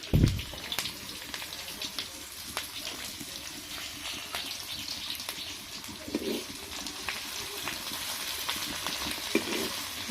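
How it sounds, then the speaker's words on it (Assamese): Food frying in a pan gives a steady broadband sizzle with occasional stirring scrapes and clicks, continuous and close throughout, with no talking. "মই এইখিনিতে ভাজি ল'ম ধুনীয়াকৈ"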